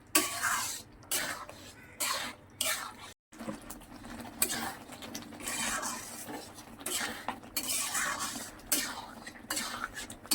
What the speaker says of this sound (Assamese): মই এই দালিটো আৰু মাছৰ মাথাটো ভালকৈ ভাজি ল'ম